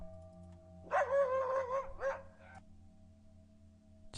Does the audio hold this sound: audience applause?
no